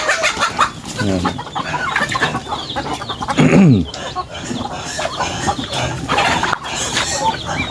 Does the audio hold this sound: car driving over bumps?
no